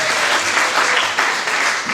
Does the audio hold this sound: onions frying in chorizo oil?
no